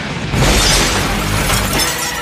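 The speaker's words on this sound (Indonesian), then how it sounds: "Sesaat kaca dipecahkan" The window glass of a Porsche is smashed, a loud, close crash of shattering glass that sprays into a sustained crackling wash of falling shards, with no talk.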